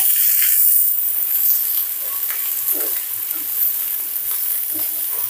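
Vegetables including carrots sizzle and hiss steadily in a hot pan over high heat for veg hakka noodles, a loud continuous frying crackle with occasional stirring scrapes.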